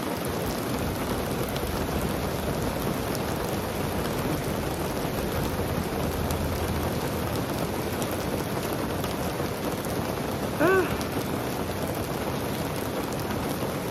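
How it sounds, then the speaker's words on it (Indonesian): Heavy rain pours down in a steady, dense hiss and patter that never lets up, close and loud, with one brief higher sound rising out of the downpour near the end. "Ini hujannya deras sekali guys. Hujannya deras sekali. Sangat amat deras."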